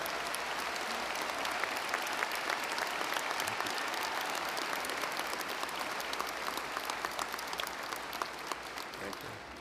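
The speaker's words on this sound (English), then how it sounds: "let's give them a huge round of applause" A commencement ceremony audience applauds the faculty at a university graduation, a dense, steady wash of clapping that fills the hall continuously from start to finish without speech over it.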